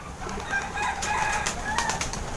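Racing pigeons returning to a rooftop loft after a training toss, with fluttering wingbeats and soft bird calls nearby in an outdoor setting.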